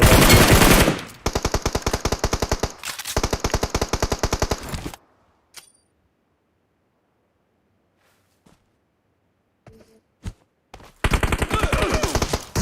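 Automatic gunfire in PUBG on the Erangel map, loud sustained bursts of rapid rounds at the start and end with a near-silent gap between, a few scattered single shots in the quiet stretch.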